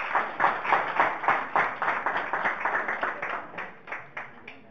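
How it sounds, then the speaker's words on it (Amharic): A studio audience applauds contestants at a student quiz competition, with rhythmic group clapping that pulses steadily about twice per second, loud at first and thinning out toward the end. "እሺ አጨብጭቡላቸው።"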